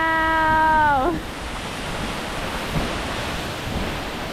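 A large waterfall near Twin Falls, Idaho gives off a steady, broad roaring rush close by, starting just after a short vocal exclamation and continuing evenly to the end.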